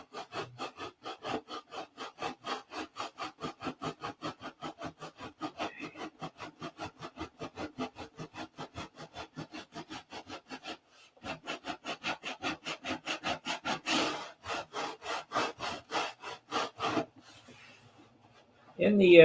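Hand sanding a P-47 model airplane, quick rhythmic scraping strokes repeated in a steady back-and-forth pattern, close and fairly soft, with a brief pause midway and a louder bump at the end.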